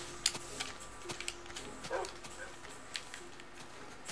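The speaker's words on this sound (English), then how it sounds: "he only barked once" A dog in the Minecraft video game gives a single short bark, faint and brief amid quiet game sounds, with no one talking over it.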